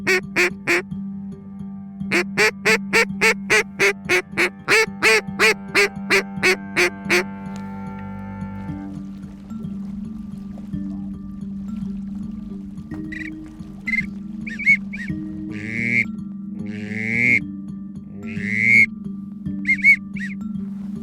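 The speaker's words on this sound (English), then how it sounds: "There's a bunch of ducks flying right there." Wild ducks quack during a hunt. A fast series of loud, evenly spaced calls comes first, followed later by scattered quacks and chatter over a steady low hum, with no talking.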